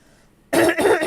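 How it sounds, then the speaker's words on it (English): A single sharp throat clearing from a woman, close and loud after a half-second of near silence, with a short second rasp following. "I clear my throat only when I'm reading"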